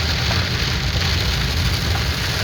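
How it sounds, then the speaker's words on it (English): Rain falls on a car driving slowly along a road in New Mexico, a steady dense broadband hiss of drops on the car over the low rumble of driving, with no talking. "Just feeling that rain."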